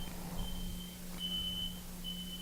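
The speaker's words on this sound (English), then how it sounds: "I swear to God, I thought I just heard the fire alarm beeping" A fire alarm beeps faintly in the background of a quiet room, with a thin high tone recurring in short repeated bursts over a steady low hum.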